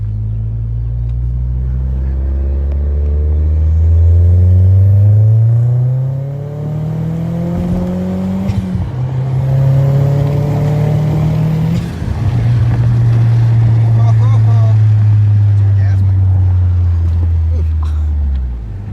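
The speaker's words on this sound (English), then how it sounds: "like I said, the turbo is loud. We'll do one pull." Audi A4 1.8T with a K04 turbo accelerating hard in second gear on a closed course, loud rising engine drone with a gear-change break and turbo whoosh, climbing again and settling into a steady roar.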